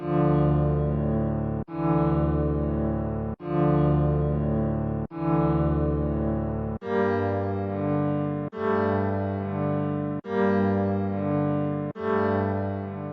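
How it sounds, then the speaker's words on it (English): A UK drill piano one-shot with a halftime effect: slowed-down piano chords repeat in roughly even blocks, a low warm phrase four times, then a brighter variation four times, smeared and sustained. "first one-shot piano, the drill piano 3, and I just added halftime to it."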